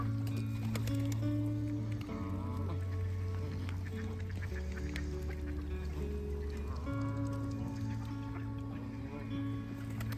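Ducks quack and honk around the pond at Ropner Park in Stockton-on-Tees, a continuous busy chorus of calls close by with faint voices beneath.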